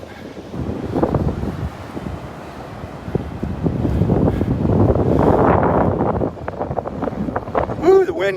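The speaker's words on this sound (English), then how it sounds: "Ooh, the wind coming out of the northeast." A northeast wind buffets the microphone on Vanderbilt Beach, making a broad, rumbling rush that swells and eases throughout, loud and close, mixed with some voices.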